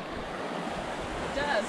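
A river flows in a steady broad wash, with wind buffeting the microphone throughout and a brief brighter gurgle near the end; no one talks.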